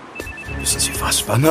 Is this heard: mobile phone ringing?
yes